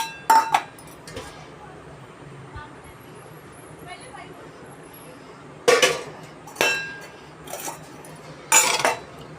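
Salad ingredients being mixed in a bowl with a spoon: intermittent sharp metallic clinks and scrapes against the dish, a few loud clusters separated by quieter stretches, with someone speaking in between.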